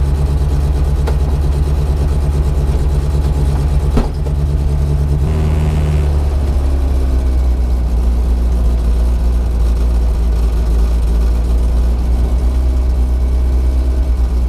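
A 1959 Moskvich 402 car engine runs at a steady low idle close by. Around the middle its note shifts briefly as the choke is adjusted, then it settles back into an even rumble. No one speaks.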